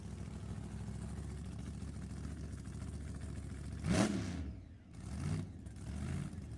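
Supercharged 462 cubic inch funny car engine at a drag strip, a steady loud blown rumble that snaps into a sharp rev near the middle, drops off briefly, then surges again.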